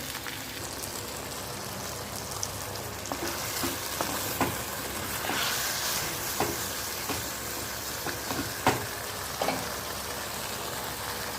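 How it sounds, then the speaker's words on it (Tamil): Green turkey berries sauté in a pan for a ground-masala kuzhambu, giving a steady, close hiss of frying with occasional soft taps and scrapes from stirring. "இதை பார்த்தீங்கன்னா பச்சை சுண்டைக்காய் நல்லா வதங்கியாச்சு."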